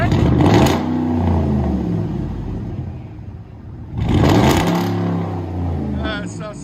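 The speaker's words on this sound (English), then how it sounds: "That's a good sounding V8 right there." A V8 engine with true dual exhaust revs hard in two loud, close bursts, settling back to a rumbling idle between them.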